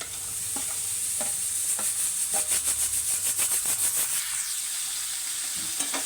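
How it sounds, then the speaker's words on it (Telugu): Carrot pieces fry in hot oil with a steady sizzle, while a spoon scrapes and stirs through them in repeated strokes, close and continuous with no talking. "ఆయిల్లో మంచిగా వేగనివ్వాలండి క్యారెట్ ముక్కల్ని బ్రౌన్ కలర్ వచ్చే వరకు వేయించుకోవాలి"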